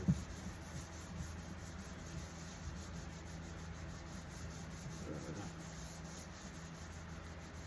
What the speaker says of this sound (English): I'm just sanding away.